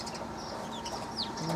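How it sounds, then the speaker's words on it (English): Birds squabbling outdoors give a few quick, faint chirps and squeaks over a steady background rumble, brief and somewhat distant. "Birds up here arguing about something."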